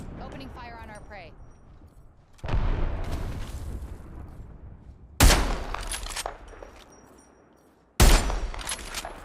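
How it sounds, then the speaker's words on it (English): Gunfire in an Apex Legends match: a few sharp, loud shots and blasts land at intervals, each with a decaying tail, over a quieter game background while a voice talks. "Opening fire on our prey."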